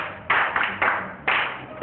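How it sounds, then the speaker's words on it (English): Children in an art club clap for themselves in a few short, uneven bursts of hand claps, close and fairly soft, with brief gaps between. "Clap for yourself."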